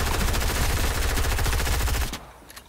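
Pistol and shotgun fire in the video game Fortnite, a loud, rapid string of close shots for about two seconds before it cuts off abruptly, leaving a quiet tail.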